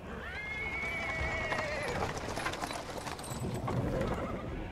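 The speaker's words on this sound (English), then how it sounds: "He's interrupted by the sound of wheels rolling on the paving stones." A horse-drawn cart rolls over paving stones in Pathfinder: Wrath of the Righteous, with steady hoof clops and wheel rumble throughout and a clear whinny early on, all close and continuous.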